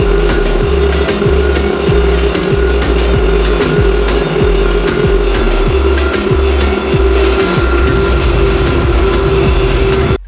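A big Airbus airliner landing in the GeoFS flight simulator, a loud, continuous engine roar with a steady low rumble and no voices.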